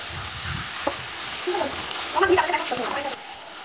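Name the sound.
ginger garlic paste frying and being stirred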